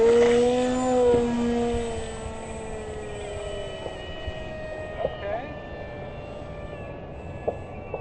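A Barnstormer RC biplane's electric motor, powered by a 3S battery, takes off with a loud high harmonic whine that falls in pitch and fades as the plane climbs away.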